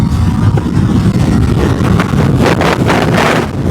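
Strong headwind buffets a 500cc faired motorcycle on a city commute. The roar is loud and continuous, with gusty surges and engine hum beneath, and no voices.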